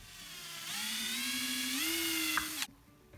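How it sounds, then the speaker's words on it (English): A step drill bores a hole through a hummingbird feeder in one steady, whining run of about two seconds, rising slightly in pitch and ending with a brief catch before it stops. "with a step drill, we'll drill the hole"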